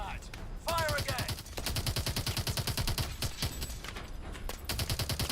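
Rapid bursts of automatic gunfire in the futuristic shooter Call of Duty Advanced Warfare, loud and sustained with brief pauses between volleys, layered with game effects and a voice speaking.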